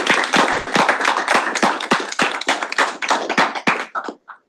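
Applause for a speaker at a university event comes as a burst of close, sharp individual claps, loud and uneven, that thins out and stops after about four seconds.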